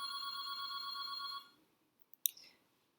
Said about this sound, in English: Hope you enjoyed that phone ring.